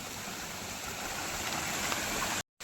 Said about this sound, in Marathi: खूप चांगल्या रीतीने वाहतोय तो झरा बघा तुम्ही कोकणातील झऱ्याचा पाणी म्हणजे असा वाहतोय